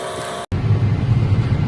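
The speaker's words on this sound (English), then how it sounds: "currently out drilling with this Sky drill, the rape and the cover crop mix" A tractor pulling a Sky seed drill while drilling oilseed rape and a cover crop mix into a dry field, giving a steady low engine drone close by after a brief cut at the start.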